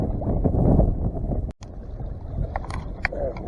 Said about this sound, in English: Bluegills in the wind. And I mean wind.